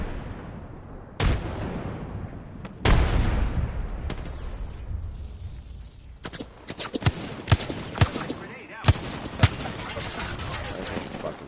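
Video game gunfire: sharp shots crack out at irregular intervals over a steady background rumble, growing into a quick cluster of loud bursts near the end.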